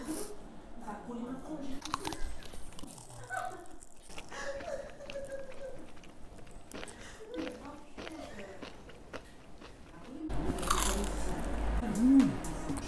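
Crispy Korean fried chicken is bitten and chewed close to the microphone, with several loud crunches and wet squishy chewing in uneven bursts and a strong crunch near the end.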